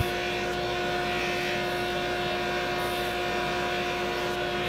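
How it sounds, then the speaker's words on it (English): Drum sander thicknessing maple acoustic guitar sides, a steady mechanical hum with strong sustained tonal whine and a broad rushing noise underneath, constant throughout. "Now we just need to run these through the drum sander and get them down to thickness before we bend them."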